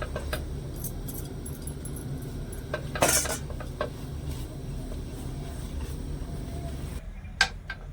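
A utensil scrapes and clinks against a pan while powdered milk is stirred into a peanut mixture for laddu, with irregular metallic taps and one louder clatter over a low background hum.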